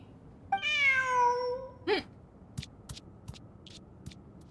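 A cat meows once in a PC video game, a long clear drawn-out meow followed by a shorter second call, then a few faint clicks and taps, close and alone.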